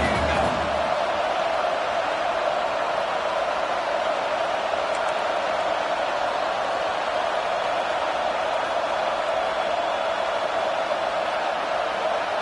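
A stadium crowd roars steadily at an Auburn vs Nebraska football game on a fourth down, a loud sustained wash of cheering and noise that fills the whole stretch without letup.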